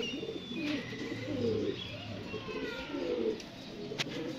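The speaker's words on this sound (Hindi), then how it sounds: "अच्छे कबूतर हैं और लगे लगाए ये जोड़े हैं।" Pairs of domestic pigeons coo in low, rolling phrases that swell and fade several times, close by, with faint chirps from other birds higher up.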